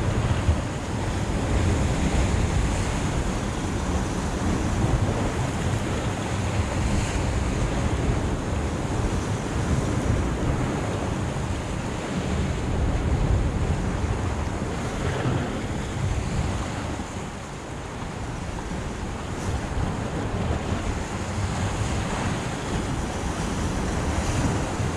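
Sea waves break steadily along the shore of a sheltered bay, a continuous broadband wash with irregular, uneven surges that never settle into a steady rhythm. Wind buffets the microphone throughout, and no voices are heard.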